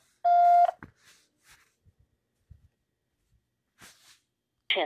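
A single short, loud tone of telephone dialing while calling a homeless shelter, followed by faint scattered clicks and quiet gaps, then a brief burst of sound at the end.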